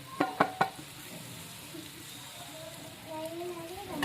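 Chopped coriander is stirred into an egg curry in a village-style pan, three quick scraping clacks of the spoon up front, then a soft low simmer and sizzle, faint and close.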